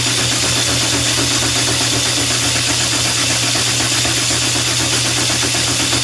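A machine tool boring out a steam engine cylinder runs steadily and loud, with dense broadband cutting noise and a low rhythmic thudding as the cutter passes the high spots around the steam port, with no talk.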